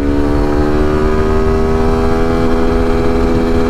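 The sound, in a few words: Suzuki V-Strom SX250 motorcycle accelerating through gears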